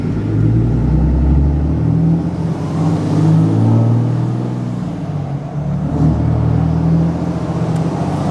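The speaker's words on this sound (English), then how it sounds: "I'm going to go through the gears." Manual-transmission Dodge Challenger Hellcat accelerating through the gears, a loud, close, deep engine roar that swells and dips with each shift, no speech.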